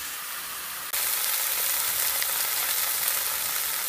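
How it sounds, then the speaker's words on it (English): Loud frying sizzle of chicken starts abruptly after a brief quieter moment, then continues as a steady, hissing crackle from a hot pan. "See that sizzle?"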